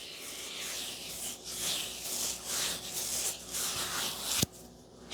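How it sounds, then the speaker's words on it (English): Hands rub over a face, making close, soft, continuous swishing strokes that rise and fall in waves and end with a single sharp tap. "And then rub your face with it."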